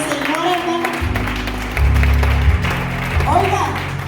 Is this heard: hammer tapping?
no